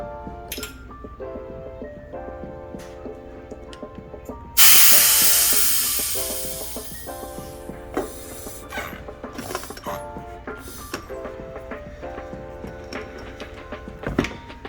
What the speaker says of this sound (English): make sure you let the air out